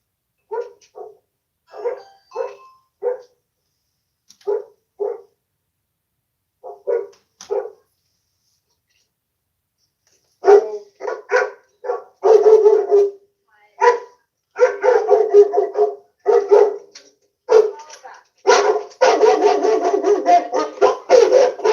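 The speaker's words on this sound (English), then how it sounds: "Why are you letting your dog attack me?" A dog barks repeatedly during a police body-camera encounter, starting with sparse, spaced single barks and building into loud, rapid, continuous barking and yipping close by, with no talk over it.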